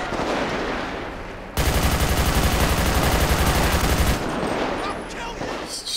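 Loud, rapid automatic gunfire in GTA 5 during a police patrol gang attack, a continuous burst of several seconds close by, framed by quieter moments of ambient noise.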